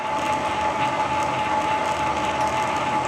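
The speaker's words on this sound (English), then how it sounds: "we'll start the lathe up forward, just timing" Metal lathe running forward while cutting a fine lead-screw thread, a steady mechanical whir with a ticking gear-train rattle and a constant tonal hum, close and continuous with no talk.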